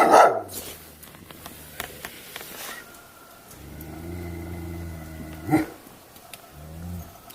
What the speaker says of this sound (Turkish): Köpek sesi.